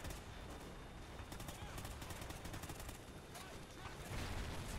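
Rapid gunfire from the Call of Duty Ghosts campaign rattles in quick bursts, dense and fairly quiet, as if in the background of the game mix.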